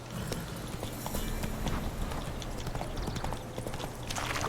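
Roach the horse galloping in The Witcher 3, a dense, quick clip-clop of hooves over a steady game soundscape, close and continuous, with no talk.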